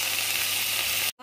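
Onion and soaked, washed moong dal sizzle and fry in a hot pan, a steady close hiss that cuts off abruptly near the end.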